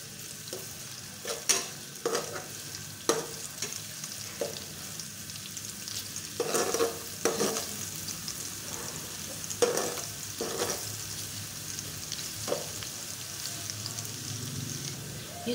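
Onions and garlic fry in a pan for a matar pulao, a soft steady sizzle running underneath while a utensil clinks and scrapes against the pan in scattered sharp knocks.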